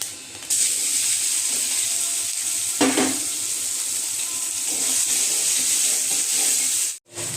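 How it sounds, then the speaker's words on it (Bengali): Onion and five-spice seeds frying in hot oil, a continuous bright sizzle with a brief stirring scrape partway through and a short dip near the end. "পেঁয়াজটা একটু ভেজে নিচ্ছি।"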